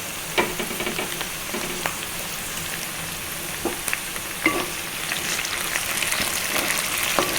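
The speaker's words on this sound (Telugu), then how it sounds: "ఇవి కూడా మంచిగా ఫ్రై అవ్వాలండి, మగ్గాలి." Bitter gourd with green chilli pieces frying in a pan makes a constant close sizzle, broken by a few sharp spoon knocks and stirring scrapes, with no speech.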